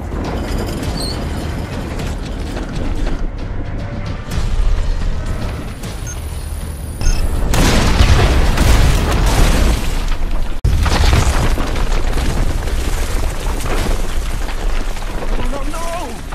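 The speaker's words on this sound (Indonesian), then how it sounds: "tertimpa runtuhan batu dari ledakan bom" Heavy booming bomb blasts and rumbling debris from collapsing rocks roar through a loud, chaotic film action scene, with dramatic music and voices mixed underneath.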